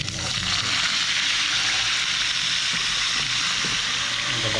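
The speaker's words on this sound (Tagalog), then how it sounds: "Mainit na po yung ating mantika. Yan na siya. So lagay na natin itong mga tilapia." Salted, scored whole tilapia frying in hot oil in a pan, a steady, loud, close crackling sizzle that fills the whole stretch without breaks.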